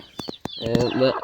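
Chickens cluck up close: a few sharp, quick clucks, then a longer, drawn-out squawking call.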